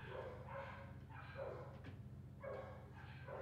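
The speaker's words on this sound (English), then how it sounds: "Kate's home, you can hear the dogs barking" Several household dogs bark in short repeated bursts as someone arrives home, faint and distant, behind a constant low hum.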